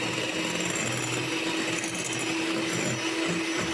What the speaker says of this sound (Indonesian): Selanjutnya di mixer dengan kecepatan paling tinggi sampai adonannya kaku dan kental.